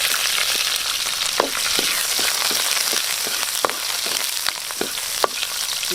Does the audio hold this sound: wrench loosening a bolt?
no